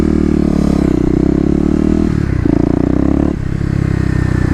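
A Kawasaki KLX250 dirt bike with an EJK fuel controller revs wide open from about 3000 rpm, its loud engine drone steady and close, shifting pitch midway with a brief dip.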